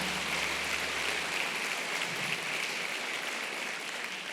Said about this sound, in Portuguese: Dê mais uma salva de palmas ao nome de Jesus.